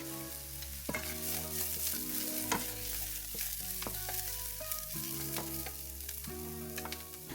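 Green bell peppers and onions sauté in a pan, a steady soft sizzle running under loud background music, with occasional clicks of stirring and no talking.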